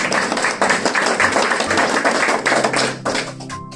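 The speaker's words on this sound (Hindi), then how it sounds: "खुदा उनके जलाल के लिए जोरदार ताली" A church congregation at a Christmas service claps loudly in praise, a dense continuous burst of applause lasting a few seconds before trailing off.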